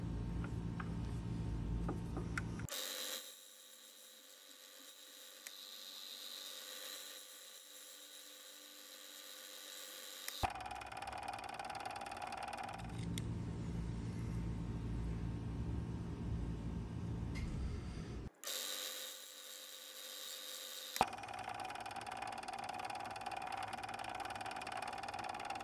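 A key cutting machine shaping a double-sided flat steel antique lever lock key gives a steady high whirring drone that switches between two tones in long stretches, with brief clicks and no talk.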